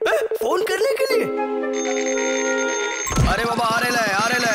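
A cartoon telephone rings in Oggy and the Cockroaches, an electric bell trill of about two seconds set between bursts of lively animated voices before and after.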